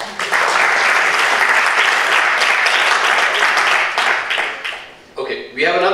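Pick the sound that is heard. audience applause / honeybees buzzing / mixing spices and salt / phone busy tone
audience applause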